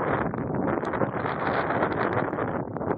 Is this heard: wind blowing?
yes